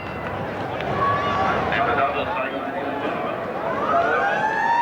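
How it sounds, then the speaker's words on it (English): A siren wails in the distance, its rising and falling tone running under an excited commentator's voice talking over crowd noise at a 1992 rugby league match. "Siren in the background."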